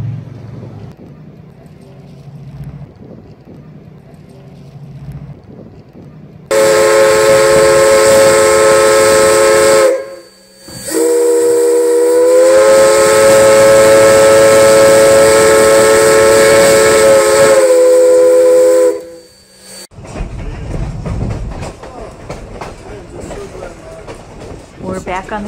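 The Durango–Silverton steam train sounds a long, loud, shrill whistle in two extended blasts, then settles into rumbling, hissing running noise on the tracks.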